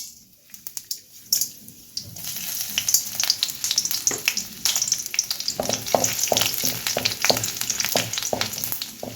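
A tempering of spices, dried and green chillies, chana dal, curry leaves and onions crackles and sizzles in hot oil. The frying builds from quiet spits into dense, continuous popping, with scattered stirring scrapes close by.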